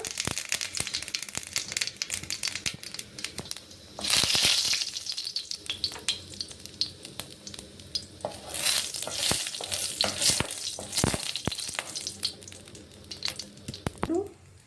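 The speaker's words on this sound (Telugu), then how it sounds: "ఇప్పుడు మనం పోపు గింజలు వేసుకుంటున్నాం ఫ్రెండ్స్. అవి చిటపటలాడాక" Hot oil sputters and crackles as tempering seeds for tomato rasam pop, with a louder burst of spluttering early on and scattered sharp crackles throughout; no talking.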